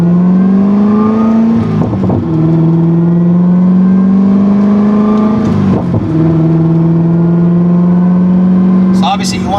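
Chevrolet Corvette ZR1 engine launching from a stop in first gear: a loud, close engine note climbing steadily in pitch, with brief dips at shift points around two and six seconds, then rising again.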